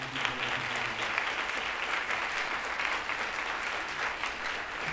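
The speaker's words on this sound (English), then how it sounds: "So if you can give a big clap for Congressman David Cicilline." An audience claps steadily and densely throughout at a YouthBuild ceremony, with no break in the applause.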